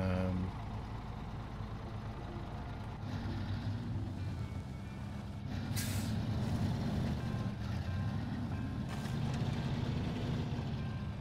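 A truck with its crane extended drives slowly in the video game SnowRunner, a low steady engine drone with gear whine and a couple of brief mechanical clanks, continuous throughout.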